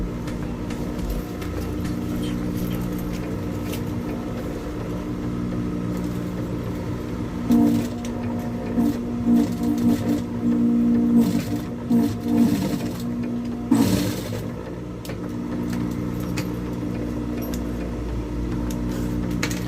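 A sewing machine topstitches a fabric double pencil case, its steady motor hum running throughout, with bursts of louder stitching rattle in the middle and a brief clatter near the end, no talking.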